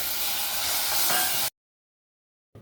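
Jackfruit pieces and vermicelli sautéing in ghee over medium gas for a payasam, a dense steady sizzling hiss for about a second and a half, then abrupt silence before a brief return, no talk.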